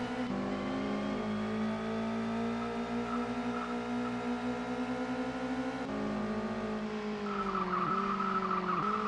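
A Nissan Primera touring car engine in the racing game Toca World Touring Car drones steadily at high revs, shifting pitch briefly near the end as it eases and climbs again, with no voices.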